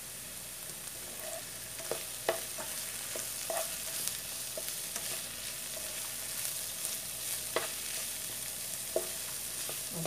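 Onions and spring onions fry in a pan for spam egg fried rice, giving a soft, even sizzle with scattered small pops and clicks over about ten seconds, no voices.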